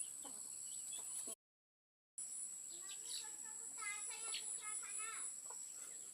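Chickens cluck in a farmyard, short repeated calls and chirps fairly near, with a brief gap of silence early on and some background voices.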